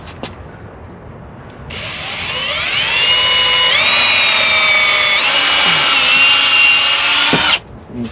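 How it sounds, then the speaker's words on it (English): A power drill pre-drilling holes whines close by, its motor pitch climbing and holding for several seconds before cutting off abruptly. "Pre-drilling."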